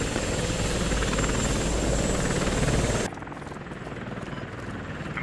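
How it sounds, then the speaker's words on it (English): A helicopter flies in the military shooter game Squad, its rotor chop loud and continuous at first, then abruptly dropping to a quieter, more muffled drone partway through. "Chopper taking hits from armor across the water from the southwest"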